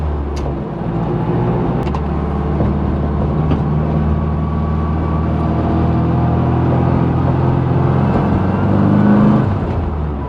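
A 1980 Mini Clubman's small engine hums and whirs from inside the car while driving, a steady low drone with slight rises as it pulls along, continuous and fairly loud with no talk.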